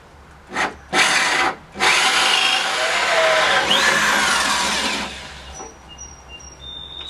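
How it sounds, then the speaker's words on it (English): A power drill bores through a wooden French door, with a couple of short bursts followed by one long steady grinding run that stops after about five seconds, close and loud with no talk. "So you go through until the pilot hole shows up, till the pilot drill goes through"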